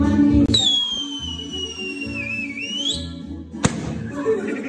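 A person gives a long, shrill whistle that slides downward and then back up, sounding close, over a muffled thump and a low murmur of background noise.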